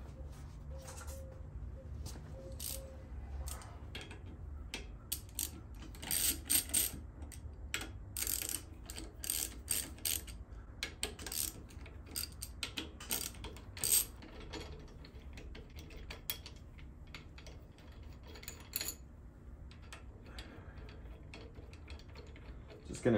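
A ratchet clicks in quick bursts as it tightens the handlebar riser bolts on a 2013 Harley-Davidson Softail Heritage, with close, rapid pawl ticks broken by short pauses over a steady low background hum.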